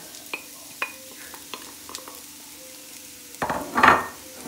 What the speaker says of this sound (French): une fois que l'huile est chaude, eh bien, je mets mes oignons